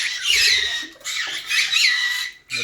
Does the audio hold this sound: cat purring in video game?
no